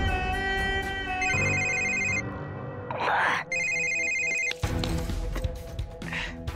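An electronic telephone ring repeats in two bursts, loud and close. Voices and background music play under and between the rings.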